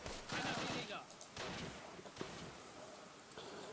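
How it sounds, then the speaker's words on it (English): Gunfire from soldiers in the video game Close Combat: a dense burst of rapid shots at the start, then scattered single reports and bursts that carry on over a steady hiss. "Yeah, he's firing."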